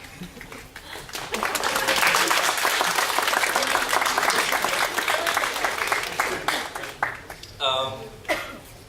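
A convention audience at a voice acting panel bursts into applause that swells quickly, holds steady for several seconds, then thins into scattered claps as a voice speaks over the tail.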